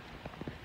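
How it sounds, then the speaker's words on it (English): Rain finally falling on a small farm homestead, a faint steady patter with a few soft drops standing out briefly, heard alone with no talk. "Raining."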